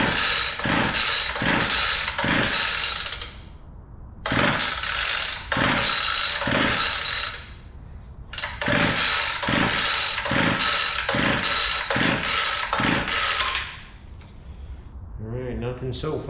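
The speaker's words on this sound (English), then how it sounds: "we're gonna give it a few pulls, see if it'll run." Repeated pull-starts of a cheap gas hedge trimmer that fails to run: bursts of rapid recoil-cord ratcheting and sputtering, loud and close, in several runs separated by short pauses.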